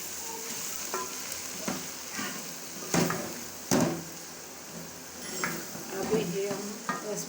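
Bhindi masala, okra cooked with turmeric, sizzles steadily in a pan while a spoon stirs and scrapes it in repeated bursts, with a few sharper clinks against the pan.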